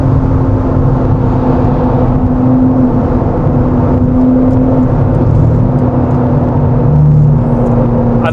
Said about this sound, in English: I heard the M4.